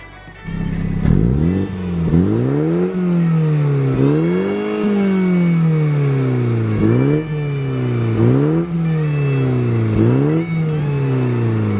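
A 2022 MINI Cooper S with a 2.0-liter twin-power turbo engine revs repeatedly, each loud rising sweep falling back before climbing again in a steady series of close, prominent pulls with no talking.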